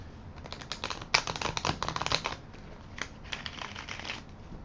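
Tarot cards being shuffled, close crisp riffling bursts in several runs with short pauses between them, fairly quiet and without talking.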